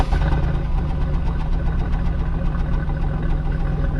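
A Pontiac Bonneville engine with its stock air box runs steadily nearby, a continuous low rumbling drone with a faint knocking texture and a breathy, wheezing intake rasp throughout.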